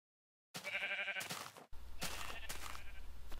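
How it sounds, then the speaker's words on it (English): A sheep in the video game Minecraft bleats, a close wavering cry followed by another bleat over a low steady hum, short and fairly loud. "Yeah, you're the gray sheep."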